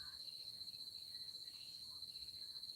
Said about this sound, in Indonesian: Suara jangkrik ya.